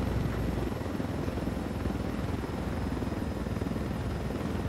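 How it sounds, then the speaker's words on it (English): A helicopter flies overhead with a steady, throbbing rotor chop that stays fairly loud and constant throughout, with no talking. "Hey, how you doing, helicopter?"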